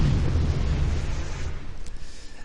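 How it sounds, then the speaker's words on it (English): Shock rifle combo explosion in an Unreal Engine (UDK) game, a loud, dense, rumbling blast that rolls on and slowly thins out, with faint electrical crackle toward the end. "you fire out the little shock ball and then you shoot it with your shock rifle, and you get this grand explosion"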